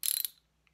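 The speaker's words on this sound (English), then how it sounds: "grab a ratchet, put it on there, set it to loosen" A ratchet wrench set to loosen clicks through a quick burst of ratcheting on a part that tends to stick, close and crisp, fading within a fraction of a second.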